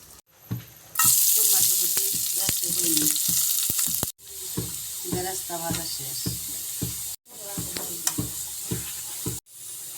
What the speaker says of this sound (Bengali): বেরাস্তা ভাজা শেষ এখন নামাই নিব